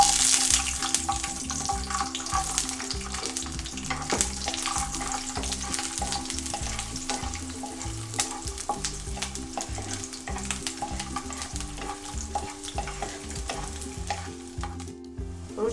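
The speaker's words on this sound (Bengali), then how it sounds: "রসুনটা কিন্তু একটু নরম করে ভাজতে হবে, বেশি শক্ত থাকলে হবে না।" Garlic fries in oil in a pan while being stirred for shrimp-head bhorta, the sizzle steady and close. Stirring scrapes and clicks recur throughout, with a faint watery hiss underneath.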